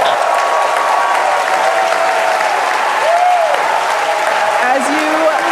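Crowd cheering and applauding at a Starship rocket engine cutoff during its third integrated flight test, steady dense clapping and cheers throughout, with a commentator's voice running underneath.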